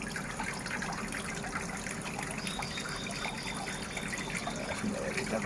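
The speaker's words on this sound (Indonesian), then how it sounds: "Nah, kita siram air dulu ya." Water poured over a black agate stone from Garut, a steady continuous splashing and trickling close by with no talk.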